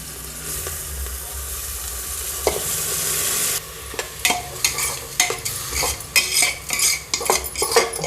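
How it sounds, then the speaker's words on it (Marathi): Rice grains hiss in a hot pot with turmeric and coriander at first, then a spoon scrapes and stirs repeatedly in an uneven rhythm, loud and close. "आपले तांदूळ चांगले परतून झाले"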